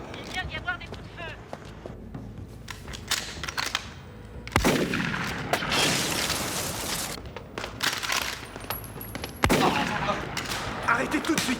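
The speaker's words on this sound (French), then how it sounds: "Il vient d'y avoir des coups de feu." Gunfire bursts through a tense action-film scene, with sharp volleys of shots and rapid machine-gun fire. Loud broadband blasts break out repeatedly over shouting voices and running, and two especially heavy bursts stand out.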